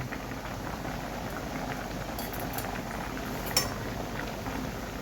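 Egg and urad vadiyalu masala curry simmering in a pot, a soft continuous bubbling hiss with a faint clink of metal partway through, close and steady with no talking.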